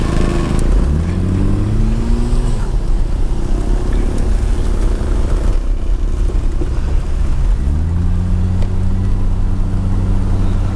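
A BMW 520i E34 fitted with a 1JZ-GTE turbo engine pulls at full throttle, its loud engine note rising steadily twice with a short shift lull between, heard from inside over constant road rumble.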